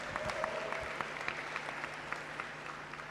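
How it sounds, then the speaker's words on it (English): Graduation ceremony audience at a business school applauding the graduates, a steady patter of many hands clapping at moderate distance, fairly quiet and unbroken, no talk. "Give yourselves a huge round of applause."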